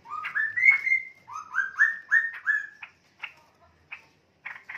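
Young male pet bird, DNA-sexed and about seven months old, giving a run of clear rising chirps and whistled notes, then a few sparse shorter calls, fairly close and alone.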